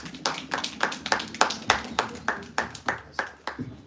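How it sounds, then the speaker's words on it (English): Rhythmic hand clapping from an audience at a university campus contest event, steady claps about every quarter second, close and fairly loud, with no talk over it. "One more applause for Fort Portal campus."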